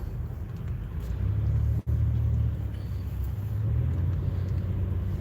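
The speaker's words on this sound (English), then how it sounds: "See, I'm in a traffic jam." A low, steady engine rumble of cars idling and creeping in a traffic jam, heard from inside a vehicle, with a brief dropout partway through.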